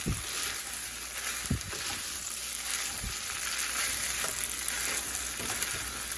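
Spinach parmesan pasta stirred in a pan over medium heat, a steady sizzle with occasional scraping knocks of the utensil against the pan, fairly quiet and without talk.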